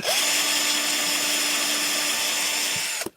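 A power drill whines steadily at close range while drilling a wooden shelf for about three seconds, then winds down abruptly with a short clunk.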